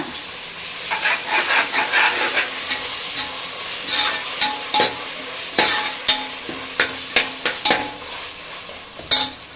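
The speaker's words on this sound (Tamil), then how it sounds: "அதை நல்லா வதக்கி விட்டுருங்க" Ginger garlic paste sautéing with onions in a pan for Hyderabadi chicken dum biryani: a steady loud sizzle under repeated scraping stirs of a spoon, with no talking.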